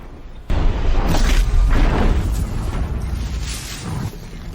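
A cannon blast from a video game, fired from a weapon shot off a Ravager machine: a sudden heavy boom, then a rumbling, crackling roar that lingers for several seconds and slowly fades.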